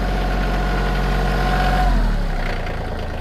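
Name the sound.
Kioti CK2610 tractor engine idling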